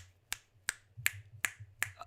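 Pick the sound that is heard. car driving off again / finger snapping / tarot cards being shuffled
finger snapping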